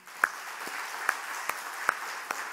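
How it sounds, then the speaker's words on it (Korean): A church congregation claps sparsely, with about six separate sharp claps spread over a couple of seconds against a quiet room tone. "다 박수 치시네"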